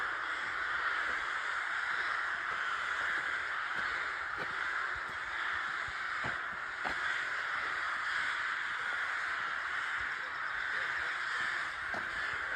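Many rooks caw continuously at a distance in rural Transylvania, Romania, a dense overlapping chorus of harsh calls from a large nesting flock, with occasional nearer cries.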